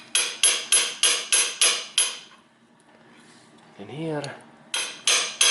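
Hammer blows drive a small socket onto a gearbox drive axle seal, seven sharp metallic strikes in steady rhythm, a pause with brief speech, then more close, loud hits.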